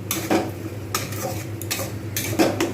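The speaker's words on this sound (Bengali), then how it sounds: "ভালো করে কষবো মশলাগুলো" A spatula clinks and scrapes against a pan as spices are stirred and fried with pointed gourd and paneer, several close, rhythmic metallic strokes over a soft background hum, with no talk.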